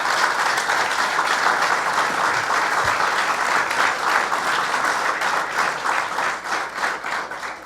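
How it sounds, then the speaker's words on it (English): Loud, sustained applause from a large crowd at an announcement event at Saratoga Race Course, dense clapping that holds steady throughout and begins to thin slightly near the end. "let's give Michael and the entire NYRA team and the board a round of applause"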